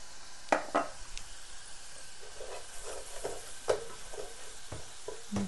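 Soft, steady sizzling of cumin seeds frying in hot butter, with occasional sharp clicks of a utensil against the pan.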